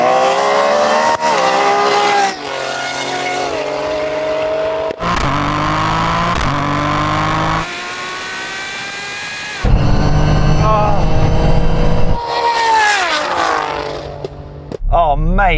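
Ferrari Superfast and a 600+ bhp Toyota GR Yaris launching side by side in a drag race, engines revving hard through rising gear pulls with shifts and brief tire noise, loud and close, with people talking and shouting over it.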